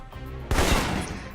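In the video game Alpha Protocol, an assault rifle opens up after a short lull: a sudden loud burst of several rapid shots, then a ringing decay.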